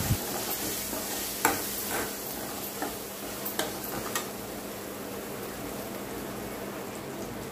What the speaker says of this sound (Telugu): పసుపు కూడా వేసుకొని ఇదంతా కలపెట్టుకోవాలి.